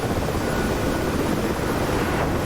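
A helicopter descends in autorotation with its rotor spinning freely in the DCS combat flight simulator, a steady, dense whooshing roar of wind and airflow with no distinct engine beats, constant and loud throughout.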